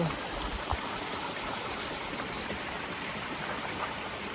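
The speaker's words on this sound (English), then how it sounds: "Beautiful spring flowing down the hill." Spring water runs down a hillside in a burned stretch of trail country, making a steady, soft rushing and trickling that stays even and unbroken throughout.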